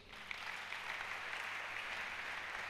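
A church congregation applauds together during a French-language sermon, a steady, full wash of clapping that holds evenly for a few seconds.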